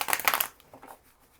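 A quick riffle of tarot cards being shuffled, a brief crisp flutter up close followed by a softer tap as the deck settles.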